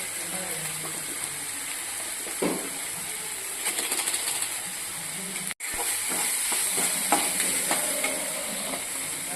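Masala and tomatoes fry in oil for pasta, giving a steady sizzle throughout, with intermittent spoon scrapes and clinks against the pan as the mixture is stirred, and a brief dropout midway.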